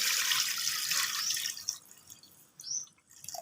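Water pours from a tap into a pot for pork soup with ribs, meat, onion, garlic and bay leaf, a steady close splashing stream for about a second and a half that then thins to faint trickles and drips.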